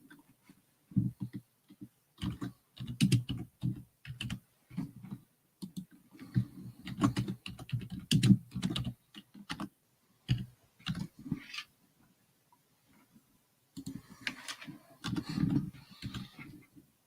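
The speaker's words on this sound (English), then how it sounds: "My keyboard's still loud." A loud computer keyboard clatters in uneven bursts of rapid key clicks, broken by short pauses, close to the microphone during a livestreamed public hearing.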